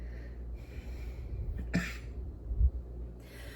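A person at home doing cross-stitch gives a single short, muffled cough amid quiet breathing and faint room noise.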